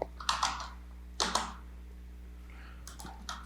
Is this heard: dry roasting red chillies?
no